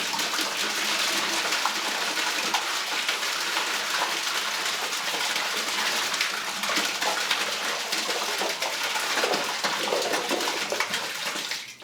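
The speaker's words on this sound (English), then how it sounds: "So let's see if they can handle a whole 5-gallon bucket of these." Five-gallon bucket of water and heavy soaked items poured into a toilet, a continuous rushing, splashing gush that holds steady for the whole stretch, close and fairly loud, with no voices.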